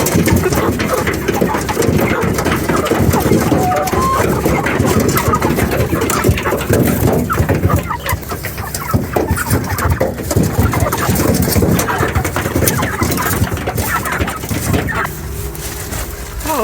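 Farm birds being loaded for the pasture coo and call amid dense, constant rustling and an engine hum, the noise busy and close throughout.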